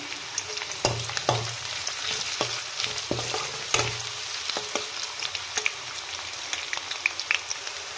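Cumin, mustard seeds and curry leaves crackle in hot oil with onions, a close sizzling hiss punctuated by sharp pops and the knock of a spoon stirring the pan.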